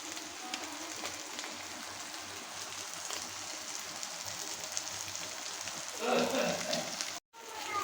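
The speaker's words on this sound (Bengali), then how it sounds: "তেল কম দিয়ে মুচমুচে করে মাছগুলো ভাজতে নিলাম" Fish frying crispy in a little oil, a steady moderate hiss and crackle like light rain, swelling briefly near the end before a short cut-out.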